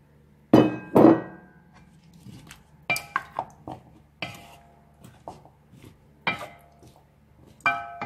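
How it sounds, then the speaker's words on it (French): Bananas tipped into a pot of beef, with metallic clangs and knocks of pot and utensils, two heavy thuds up front followed by scattered lighter clinks and taps, close by, with no voices. "nous allons verser les bananes dans la viande de bœuf"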